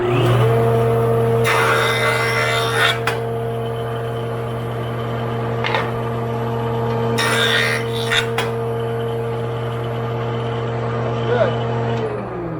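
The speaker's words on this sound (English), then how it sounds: "So now we're going to run it through the joiner again." A woodworking jointer in a home woodshop smooths the rough, freshly sawn edge of a board. A steady motor whine hums throughout, broken by two louder bursts of cutterhead chatter as the wood passes over.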